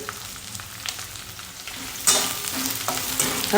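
Long-cut capsicum and cabbage stir-frying on a high flame for veg hakka noodles, a steady close sizzle that flares louder midway as the vegetables are tossed.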